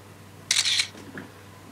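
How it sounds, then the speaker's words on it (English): A phone camera shutter sound on a 3G handset, a single crisp synthetic click-snap up close, followed by a faint softer tail, with no talking. "this is the new shutter sound"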